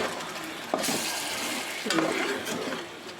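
Steady sizzling and bubbling of a thick macaroni sauce in a hot pan, with a couple of stirring scrapes, close and continuous.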